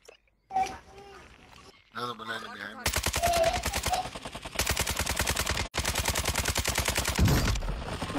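Rapid automatic gunfire from a video game rattles in dense bursts for most of the stretch, loud and close, with players talking over and between the shots.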